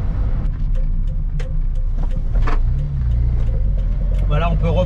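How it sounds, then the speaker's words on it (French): A carburetted 1986 Peugeot 205 1.3 SR engine accelerating smoothly, a steady, close cabin drone lasting the whole stretch, with people talking over it. "L'accélération, elle est sans à-coups, malgré le fait que ce soit une voiture à carburateur."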